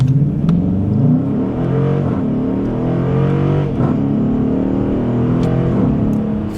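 A 2020 Dodge Challenger R/T with the 5.7L HEMI V8 accelerating hard from 0 to 60, its engine note loud and close, rising in pitch through the gears with brief dips at the shifts.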